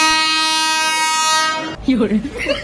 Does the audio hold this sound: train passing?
yes